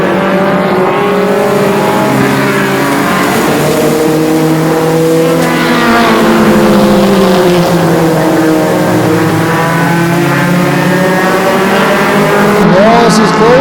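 Mini stock race cars roar around Flamboro Speedway, engines droning and shifting pitch as the pack passes, loud and continuous while a commentator talks over the racing.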